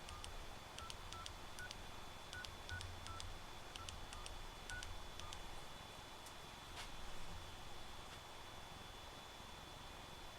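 A quick sequence of telephone keypad tones from a field phone on an SB-22 switchboard beeps out, short evenly spaced dialing pulses over a faint hiss, with a brief pause before the last few.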